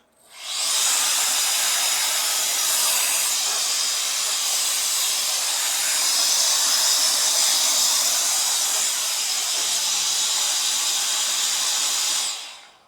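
A handheld compressed-air mini blower blasts dust out of a keyboard in one loud, steady, breathy hiss lasting about twelve seconds, with no voices.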